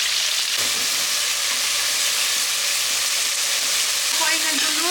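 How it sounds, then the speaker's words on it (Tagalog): Ingredients sautéing in a hot pan for a fish curry: a loud, continuous sizzle with occasional stirring movements, steady throughout with no talk. "dito ako nagigisa"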